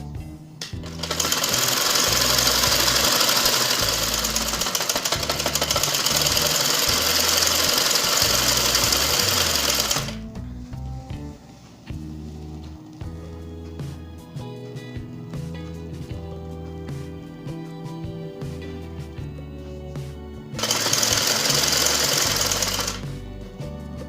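A sewing machine stitches the side seams of a shalwar in a loud, steady mechanical whir that runs in two long bursts, with a quieter stretch of lighter rattling between them.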